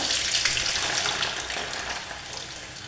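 Garlic cloves and ajwain seeds fry slowly in heating oil over a medium flame for a homemade pain-relief oil, giving a steady, close, broadband sizzle that stays even throughout with no talking.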